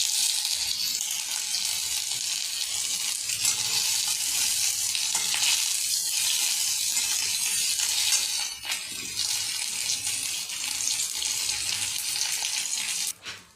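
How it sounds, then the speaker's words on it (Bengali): Mustard seeds and grated ginger frying in oil in a karahi, a loud, steady hiss and crackle that holds evenly, then briefly dips and ends with a sharp clink. "আমি কড়ার মধ্যে তেল দিয়ে দিচ্ছি, একটু সর্ষে দিয়ে দেবো আর একটু আদা ঘষে নিয়েছি"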